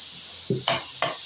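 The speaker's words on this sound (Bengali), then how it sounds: "এখন এটাকে আমি ভেজে নিব।" Small pieces of rice dropped into a hot pan for frying rice, giving three short, soft sizzling bursts in quick succession against a quiet background.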